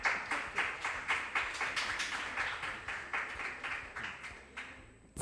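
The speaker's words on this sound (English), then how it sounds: "Kindly give them a round of applause" An audience at a school science quiz competition claps in steady unison, about three sharp claps per second repeating evenly and fairly close, without any talking over them.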